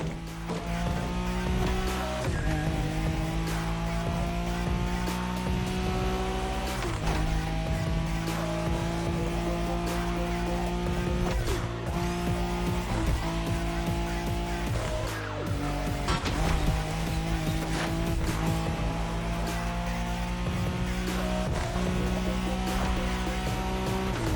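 A Nissan Skyline racing in The Crew Motorfest, its engine roaring steadily with repeated gear shifts and rev changes, loud and close, with brief tire squeals along the way.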